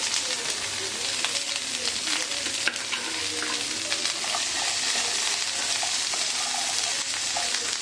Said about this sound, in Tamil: ஒரு பெரிய வெங்காயம், கட் பண்ணி க்ளீன் பண்ணி வாஷ் பண்ணி வச்சுருக்கேன். நல்லா வதக்கி எடுத்துக்கலாம்.